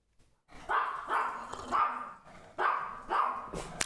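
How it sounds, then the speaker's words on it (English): A dog barks indoors in a run of five loud, close, evenly spaced barks with a slightly growly edge, with no talking over them. "What are you barking at?"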